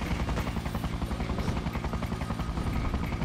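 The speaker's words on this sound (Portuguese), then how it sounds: "O que esse helicóptero tá fazendo aqui?" A helicopter in the video game Freedom Fighters thrums steadily with rapid, continuous rotor chop, loud and close throughout, with no voices.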